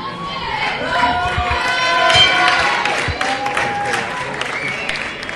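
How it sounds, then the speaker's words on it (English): A large crowd at a 2012 continental championship women's boxing final roars and cheers steadily through the final round, with whistles and scattered clapping blending into a loud, continuous arena din. "The crowd cheers on the boxers for the fourth and final round"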